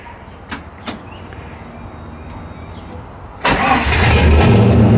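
A couple of clicks, then the starter of an FD RX-7 with an LS V8 swap cranks briefly and the engine catches, bursting into a loud, deep rumbling idle that holds steady.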